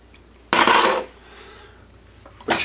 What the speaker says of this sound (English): Put your eggs into the pan.